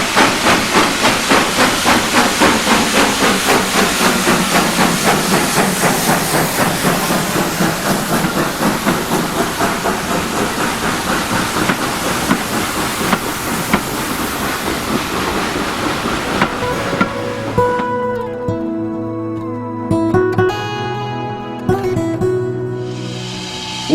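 Steam roaring and hissing from the boiler of a J94 saddle tank locomotive, loud and close with a rapid pulsing chuff, fading out into quieter mechanical tones and a whistle-like hum.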